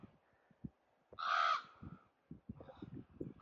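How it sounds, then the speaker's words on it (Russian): At an old cemetery, a single loud crow caw rings out near the middle, surrounded by quieter scattered knocks and faint rustling sounds. "такие вороны сидят тут."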